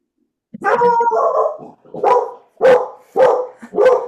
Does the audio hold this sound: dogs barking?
yes